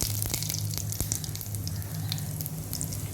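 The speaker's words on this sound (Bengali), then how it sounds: "কড়াইতে আগে থেকে তেল দিয়ে দিয়েছি এখন গোটা জিরা ফোড়ন দিয়ে দিচ্ছি শুকনো লঙ্কা ফোড়ন দিয়ে দিচ্ছি" Whole cumin seeds and dried chillies sizzling in hot oil in a wok, a steady crackling hiss with scattered small pops and a low hum underneath, no talking.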